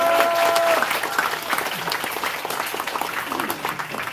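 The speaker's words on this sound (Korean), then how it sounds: "큰 박수로 환영해 주시기 바랍니다" A crowd at a regional party members' rally in Eunpyeong-eul applauds to welcome a National Assembly member to the stage, a loud dense burst of clapping that gradually thins and softens.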